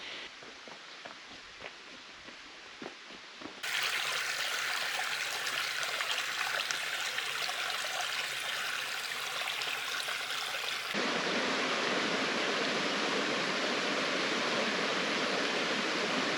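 A creek flows in Madera Canyon in Arizona's Santa Rita Mountains, a steady close rush of water that swells louder partway through and continues unbroken, with no talking.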